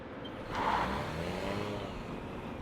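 A 2026 Toyota Corolla Cross S hybrid starts and begins rolling, a soft, fairly distant rise of motor and road noise that settles into a steady low hum, with no voices.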